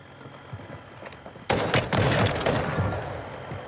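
Gunfire in Warzone erupts suddenly after a quiet stretch, a loud rapid burst followed by continued close shooting and rumbling combat noise.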